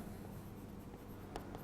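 A pen scratches steadily on paper or a board during a maths lesson on functions, a continuous dry scraping texture held at a moderate level for the whole stretch, with a couple of brief sharper strokes near the end and no talking.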